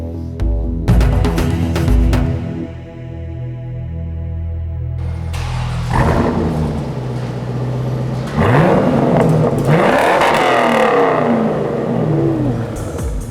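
A Chevrolet fitted with a new catback exhaust is started and revved, its loud engine note rising and falling in several surges over a steady rumbling idle, with no talking.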